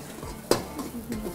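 Chopped vegetables hit a hot pan for a Manchow soup stir-fry, giving one sharp clatter and burst of sizzle followed by a steady low frying hiss, close and alone.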